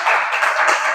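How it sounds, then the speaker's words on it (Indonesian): A classroom group applauds a presenting team, a short burst of dense, steady hand clapping from many people that lasts about a second. "tepuk tangan untuk kelompok 2"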